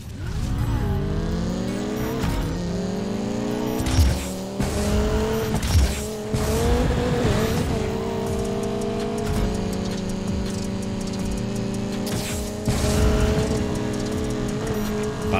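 Race car engines in Need for Speed Payback, with BMW and Audi cars among them, roar steadily with rising and shifting revs, while sharp tire squeals and skids break in repeatedly across the run.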